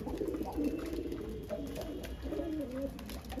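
A pigeon from a pair of Satinette or Blondinette breed coos in a few low, throaty phrases against steady ambient noise at a pigeon loft, fairly close.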